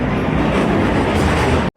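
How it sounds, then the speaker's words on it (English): The world's oldest ghost train at Blackpool Pleasure Beach rumbles loudly and close, a dense continuous roar of rolling cars on track that cuts off abruptly at the end. "the world's oldest ghost train, based here at Pleasure Beach Resort"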